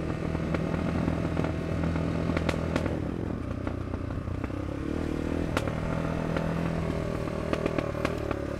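A tall trail motorcycle labouring up a very steep slope, its engine droning loud and close with a steady throb, pitch dipping and recovering midway amid clattering.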